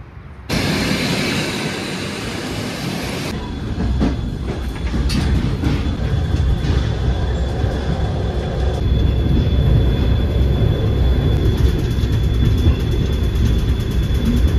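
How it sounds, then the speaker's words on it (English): A train bound for Andijan rolls along with a steady, loud rumble and rattling wheels, growing slightly heavier over time, heard from close by without any talking. "I am now heading to the train station to get my train to Andijan."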